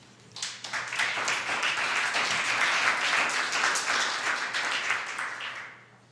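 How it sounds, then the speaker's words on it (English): Applause from a conference audience welcoming a panel on protecting student expression: crowd clapping swells quickly, holds steady and full for several seconds, then fades near the end over a faint background hum. "Please give a round of applause for them."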